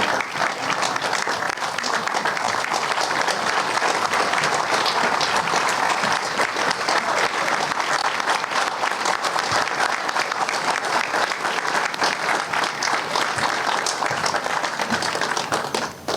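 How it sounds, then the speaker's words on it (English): Audience applause at a grand opening ceremony: dense, sustained clapping from a large crowd, loud and even throughout, with no pause and no voices standing out. "Let's give ourselves a round of applause."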